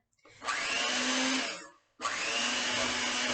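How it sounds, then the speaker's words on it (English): A small electric kitchen mixer beating egg and almond extract into chocolate chip cookie dough, running in two close bursts with a brief pause between, steady motor whir with grinding texture. "I'm going to come back over here to my little mixer"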